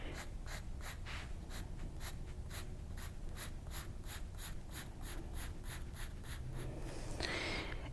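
A pencil draws hatching lines on paper in a quick, regular run of about fourteen short scratchy strokes, close and soft. A brief breathy squeak comes at the end.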